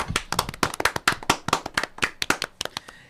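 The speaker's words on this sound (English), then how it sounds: "Can I get a round of applause, please?" Two podcast hosts clap their hands, a close, loud burst of separate claps in an uneven rhythm for about three seconds with no talking.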